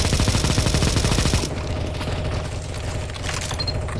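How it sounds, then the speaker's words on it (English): Rapid automatic gunfire in a Counter-Strike: Global Offensive zombie escape match, loud dense bursts that stop abruptly partway, followed by quieter game ambience and scattered effects, no talk. "Shoot the zombie, shoot the zombie, shoot, shoot, shoot."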